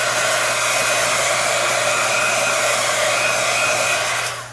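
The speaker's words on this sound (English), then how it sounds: "you run your heat gun over your work" A heat gun blows steadily over a hot-glued craft embellishment project, a loud, even whooshing airflow with a constant motor hum that cuts off at the very end.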